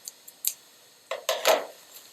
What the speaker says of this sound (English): Trim these threads.